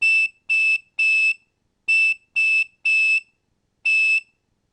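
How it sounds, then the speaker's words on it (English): Recording from the early-1970s Z joke phone line plays the first notes of Jingle Bells on high-pitched bells: seven bright, clean tones in the rhythm of the tune, separated by silence. "the Z recording plays Jingle Bells in the key of C"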